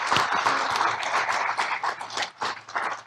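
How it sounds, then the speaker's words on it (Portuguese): A studio audience claps in a lively burst, with uneven, fluttering hand claps that rise and dip over a few seconds. "Palmas para vocês todos!"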